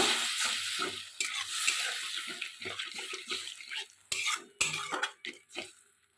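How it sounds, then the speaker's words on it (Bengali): Dried fish in spice masala splashes as a little water is poured into the pan and then gets stirred hard, with loud wet sizzling, scraping and clattering of a utensil against the pan in bursts. "মশলার সঙ্গে কষা হয়ে গেছে আমি এবারে সামান্য জল দেবো ভালো করে মেরে নেব"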